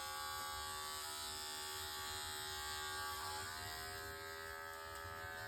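Electric hair clippers buzz steadily and close up, angled through a cowlick during a haircut, a continuous even drone with no talking.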